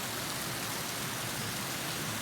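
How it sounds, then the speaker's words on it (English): Heavy rain pours down steadily during a storm, a dense, unbroken hiss of drops hitting surfaces up close with no talking. "So while we are getting rain here in the last day, 2 days"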